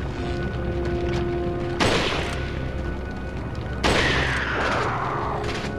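Two heavy gunshot blasts in Resident Evil 4 Separate Ways, at about two and four seconds, each a sharp broadband boom that rings out with a long decaying tail over a steady game ambience hum.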